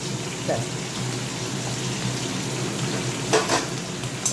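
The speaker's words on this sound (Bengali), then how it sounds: "একটু ভেজে নিই আর এই দেখো এইটুকু আদা দিই" Vegetables frying with ginger in a pan give a steady close sizzle with watery hissing, and a few brief stirring clatters stand out near the end.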